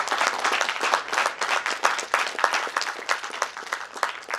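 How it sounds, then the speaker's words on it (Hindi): Seminar audience in Delhi giving loud applause, many hands clapping in a dense, lively burst that continues steadily from start to finish with no speech over it. "एक बार एमडी सर के लिए जोरदार तालियां"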